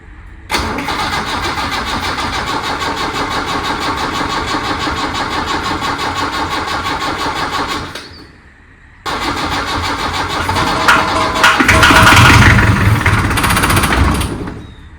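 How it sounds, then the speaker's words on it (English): A Land Rover Series 3 diesel engine cranks repeatedly without starting, its starter churning loudly for about seven seconds, then a brief pause and a second, harsher cranking attempt that also fails, recorded close up. "I can show you the attempts of starting the car now."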